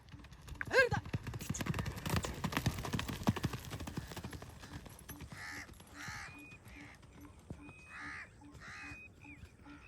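Horse hooves clip-clop in a quick run of dense beats, then slow to scattered steps, while crows caw nearby and people talk.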